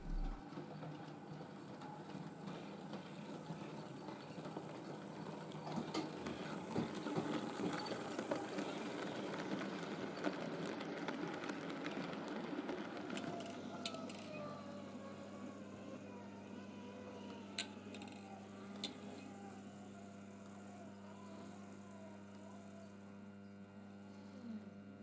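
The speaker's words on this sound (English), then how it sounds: "That sound, by the way, is that of a real train, just about 50 feet away" A real train passing about 50 feet away, a steady low rumble with mains-like hum and broadband noise swelling mid-clip, then settling into a sustained drone with occasional clanks and squeals.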